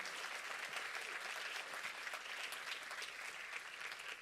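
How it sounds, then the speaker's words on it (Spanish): Congregation clapping during a Spanish-language church service, dense sustained applause filling the whole stretch at an even level, with no talk over it. "dale un aplauso al Señor"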